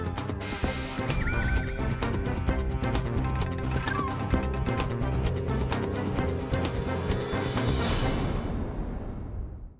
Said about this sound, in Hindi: मेरे टेंट में गधा घुस आया है